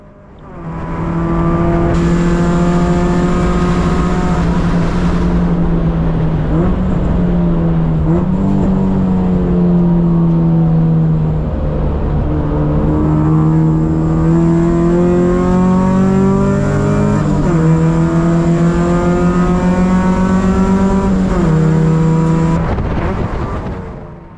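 Racing car engine at the 24h of Lemons at Gingerman, droning loudly and steadily with the pitch falling as it brakes hard into a corner and rising again, a continuous close roar with no talking.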